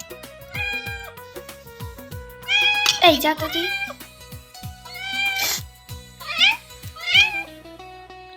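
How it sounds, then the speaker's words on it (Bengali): A cat meows repeatedly near a home kitchen where stuffed potol is being made, giving several drawn-out, rising-and-falling cries in close succession while a person speaks briefly between them. "আবার চলে এসছি বিড়ালটা"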